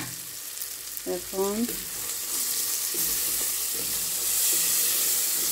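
Fish curry masala fries in oil, a sizzling hiss that swells louder toward the end, briefly interrupted by a short spoken word early on.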